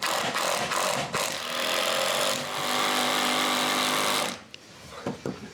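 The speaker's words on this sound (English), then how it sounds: "we'll put 3 screws in here real quick" A power drill drives screws into a 2x4 during a basement remodel, a loud, close whirring and grinding that runs almost continuously for about four seconds, then stops, leaving a few light knocks.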